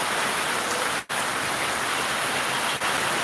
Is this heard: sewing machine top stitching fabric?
no